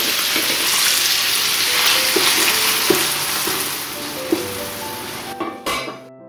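Peas sautéing in hot oil in a pan, a steady loud sizzle with a few scraping stirs and clinks of a utensil against the pan, close up, ending in a sharp knock before going quiet.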